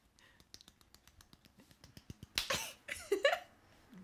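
Light, sparse hand claps during a podcast recording, a string of small, quiet, evenly spaced slaps followed by a brief burst of louder rustling noise.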